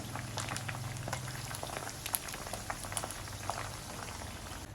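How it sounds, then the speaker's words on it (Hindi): Chicken legs frying in a pan of oil, a steady close sizzle and bubbling with scattered soft pops and spits, no talk. "तो हाफ़ चिकन लेग्स जो हैं वो मैंने फ्राई कर लिए हैं।"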